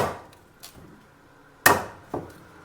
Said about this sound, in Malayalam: കരിമ്പ് നമുക്ക് ഏകദേശം ഈ ഒരു ഭാഗത്ത് വെച്ച് ഓരോന്നായിട്ട് കട്ട് ചെയ്യാം